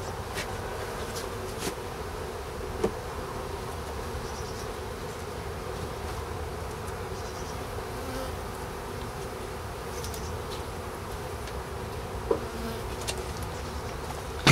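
Honey bees buzz continuously during a March hive inspection, a dense, even drone close by with occasional faint clicks and knocks from handling.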